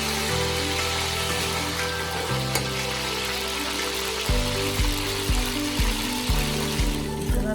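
A spoon stirs aloe vera halwa, made with flour, sugar and cardamom, in a pan under a steady close sizzle, with rhythmic scraping strokes growing more distinct in the second half.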